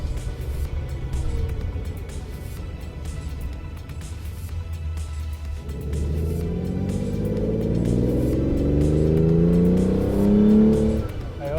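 A 1975 Ferrari 365 GT4 2+2 with a carbureted V12 drives on a road, its engine droning steadily at first, then rising in pitch as it accelerates, with continuous road and wind noise.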